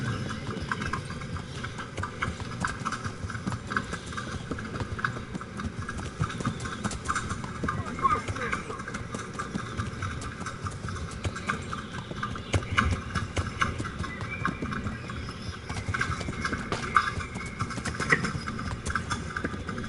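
Rhythmic horse hoof clip-clops in the video game Kingdom Come: Deliverance plod along a path at a steady pace over a low background hum, with a voice talking intermittently over it.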